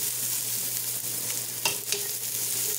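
Oxtail browns in a hot pan as it is sautéed for oxtail soup, giving a steady, close sizzle and frying hiss with a couple of brief stirring scrapes.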